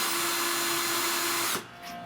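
Power case trimmer cutting 308 Winchester brass cases to length, a steady high motor whine with a constant tone for about a second and a half, then cutting off abruptly and leaving quieter background noise.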